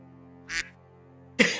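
A short duck quacking sound effect plays as a quick quack, then a louder second quack burst, over a faint steady background hum.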